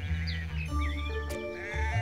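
Sheep in a pasture, a ram among his many lambs and ewes, bleat loudly and close by in overlapping calls that run unbroken for about two seconds.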